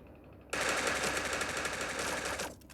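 Rapid automatic gunfire from an online shooter video game sounds in a continuous burst of about two seconds. It starts abruptly after a short quiet lead-in and cuts off sharply near the end, loud and close with no talk over it.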